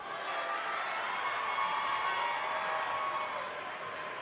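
An arena crowd roars in a steady, dense wash of cheering and applause during a Mera versus Zatanna wrestling match in WWE 2K20, sustained and loud without pause.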